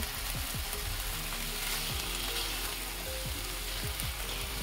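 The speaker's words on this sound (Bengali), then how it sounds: "এইভাবে 2 থেকে 3 মিনিট আমি একটু ভেজে নেব চিকেনটা" Chicken pieces for a restaurant-style soup fry in a pan, giving a continuous soft sizzle like light rain, with occasional quiet scrapes as the pieces are turned; no one speaks.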